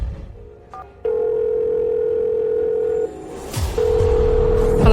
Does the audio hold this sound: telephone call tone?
yes